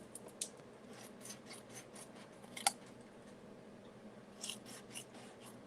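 Paper being cut with scissors for a children's Easter card and basket craft, heard as a series of short, close snips and crisp crunches spread across the moment, with one sharper snip standing out.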